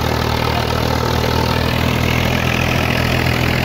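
A tractor engine idles steadily and close by, a continuous mid-low rumble on a wheat farm with no talk over it.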